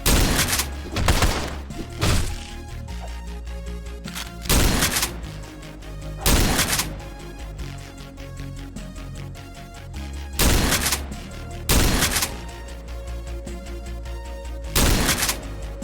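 Gunfire in the video game Hunter: Brotherhood: loud booming shots in irregular bursts with heavy low thumps, layered over a dense, continuous game soundtrack.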